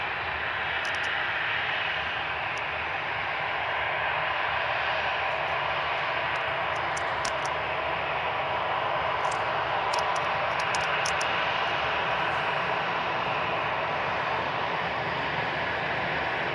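EasyJet Airbus A320 with sharklets, its jet engines giving a steady, moderately loud roar that swells slightly midway, heard alone with a few faint high ticks above.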